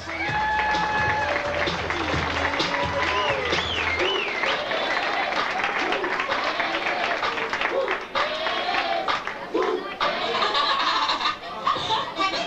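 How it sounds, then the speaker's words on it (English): A fashion show audience applauds the models with steady clapping mixed with laughter and chatter, while a voice speaks over the crowd noise throughout. "Please give them a fabulous round of applause."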